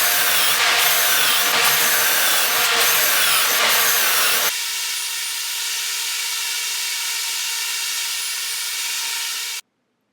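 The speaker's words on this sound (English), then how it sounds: "I'm going to drill in some pocket holes all right here" Power drill boring pocket holes in wood, a loud continuous whine for about four seconds with a few brief pitch dips, then a steadier, quieter motor hum that stops abruptly near the end.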